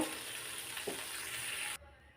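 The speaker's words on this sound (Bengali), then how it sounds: "এখানে আর একটু পানি অ্যাড করে দিয়ে মশলাটা সুন্দর করে কষিয়ে নিব" Masala spice paste for a hotel-style fish bhuna frying in a pan, a steady close sizzle with a brief stirring scrape partway through, then cutting off abruptly near the end.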